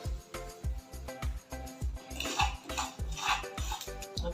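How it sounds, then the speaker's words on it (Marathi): Sesame seeds dry roasting in a pan for spicy chicken are stirred with a metal utensil, giving a regular series of close scraping, clinking strokes against the pan with a faint sizzle, and no talking. "आता याच्यामध्येच तीळ पण भाजून घेते."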